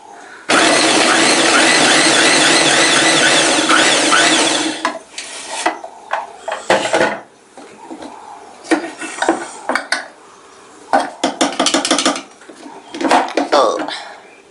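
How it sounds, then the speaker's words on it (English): A food chopper clatters loudly while chopping onions in one long burst, then in shorter, choppy bursts with brief pauses between them. "now I'm going to chop 3 medium-sized onions in this same chopper"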